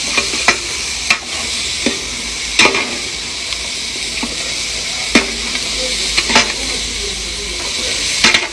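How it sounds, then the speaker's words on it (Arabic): Tomato sauce sizzling with meat, onion and vegetables in a pot for Bedouin maqluba, a loud steady frying hiss broken by repeated sharp stirring clatters. "انتظر بس الصلصه تتسبك مع اللحم مع البصل والخضروات"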